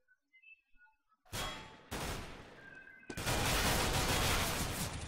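Automatic shotgun blasts in a competitive clan-match shooter game: a couple of sharp bursts, then a sustained loud volley of fire toward the end, with no talking over it.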